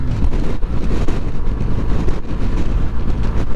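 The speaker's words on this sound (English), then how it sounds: "There's again a tremendous wind." A strong, tremendous wind roars continuously and loudly across the microphone in a residential street of small estate houses, a dense rumbling buffet with no pauses.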